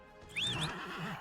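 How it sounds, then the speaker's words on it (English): A horse in the video game Dragon Age: Inquisition lets out a single short whinny with a rising and falling pitch, clear and close over a soft background hum, with no talking. "Come here, horsey."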